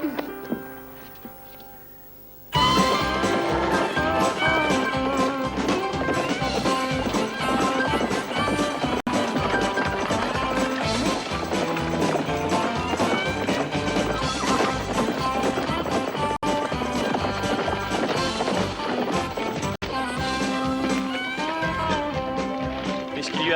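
Horses of a Pony Express team trot with steady clip-clop hoofbeats and occasional whinnies, mixed into a loud, busy scene with music and bustle running continuously after a quiet opening.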